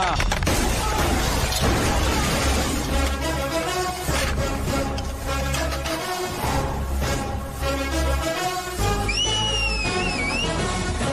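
A man whistles a short gliding tune near the end of a scene from a Hindi-dubbed action film, heard over loud, dense dramatic score with booming hits and bursts.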